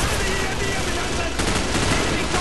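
Rapid automatic gunfire rattles continuously in the shooter game Call of Duty Modern Warfare Reflex, a dense, loud burst of shots with game effects layered throughout.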